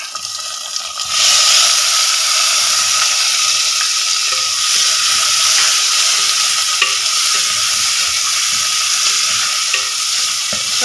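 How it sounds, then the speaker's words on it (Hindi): Peeled tomatoes land in a pan of frying potatoes, peas and carrots for a dhaba-style aloo matar gajar, bursting into a loud, steady sizzle with occasional stirring scrapes that continue throughout. "इसमें टमाटर जाएंगे।"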